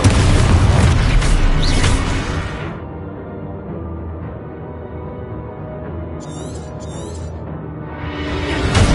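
Explosive spell effects from the video game Hogwarts Legacy: a loud, dense blast and roar at the start that decays into a rumbling tail, then a short bright chime-like sparkle and a second swelling burst at the end.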